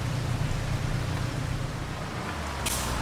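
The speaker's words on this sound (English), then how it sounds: "There's the rain. Knew it was coming." Steady rain falls in Farming Simulator 25, a constant even hiss of droplets with a low rumbling bed underneath, alone and with no talk, holding at moderate level throughout.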